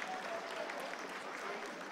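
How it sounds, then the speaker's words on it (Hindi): Staff in mission control during the Chandrayaan-3 moon landing applaud, a faint, distant, steady wash of clapping with a murmur of voices underneath. "Lot of applause indicates that till now the performance has been nominal."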